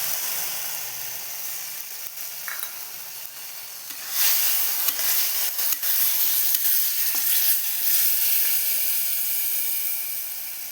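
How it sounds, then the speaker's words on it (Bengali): Tomato and spices sizzle and hiss in a frying pan while being stirred for a small-fish sour curry. The bright frying noise is steady and close, and it swells louder about four seconds in, with occasional scraping stir sounds. "আমি টমেটোটা ভালো করে নাড়াচাড়া করে নেব।"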